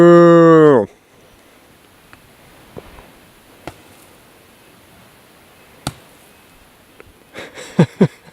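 A cow lows loudly and close by in the cattle country of eastern Washington, one long drawn-out moo at the start. Then comes a quiet open-air stretch with faint thuds, and two short louder calls near the end.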